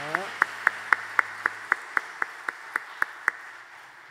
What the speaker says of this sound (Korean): 박수 보내시기 바랍니다.